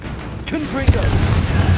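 Confringo fire-blast spell in Hogwarts Legacy, a short booming burst over steady game noise, a voice speaking just before the blast.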